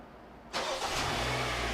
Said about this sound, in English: And here you go, the car started.